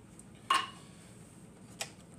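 Drained canned green chilies drop into a pan with a sharp metallic clatter, followed by a second fainter knock a moment later, in a quiet kitchen.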